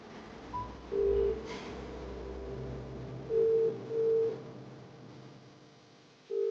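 Someone dials a telephone at home, and a few short keypad tones beep at uneven intervals, faint and clear over a quiet indoor background.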